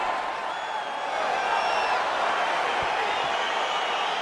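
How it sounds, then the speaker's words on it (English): Crowd roar in the EA Sports UFC 4 video game as a fight gets underway, a dense, steady cheer swelling slightly and holding loud throughout, with faint whistles on top. "crowd getting excited as this fight gets underway"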